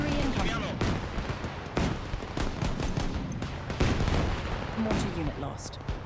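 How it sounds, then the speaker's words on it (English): Artillery fire in the Systematic War video game booms and crackles in a dense barrage of overlapping blasts and rapid shots, loud and continuous, with a voice speaking over part of it. "Enemy artillery incoming."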